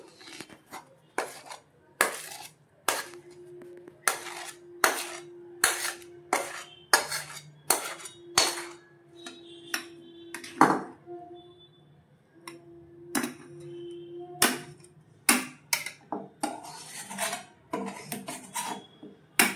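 Mango suji halwa being taken off the heat and poured out, with a long series of sharp metal spoon scrapes and knocks against the pan in an irregular rhythm, close and clear.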